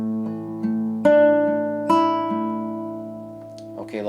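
Solo acoustic guitar playing the melody of a song arrangement, fingerpicked with loud melody notes over soft bass and inner strings, several distinct plucks ringing out close and clean with no talking.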